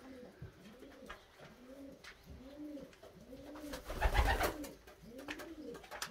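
Domestic pigeons coo in repeated, rolling calls inside a pigeon loft with nests and young birds, close and steady over about six seconds, with a brief louder rustle or flutter near the middle.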